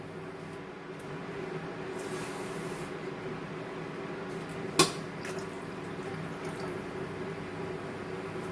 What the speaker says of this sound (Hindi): अब इसमें मैं ग्रेवी बनाने के लिए 1 गिलास में पानी डाल रही हूँ।